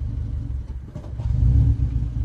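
A Subaru car engine rumbles low and rises into a brief rev, heavy and close, without any talking.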